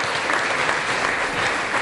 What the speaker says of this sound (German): Ein Applaus für meine Nichte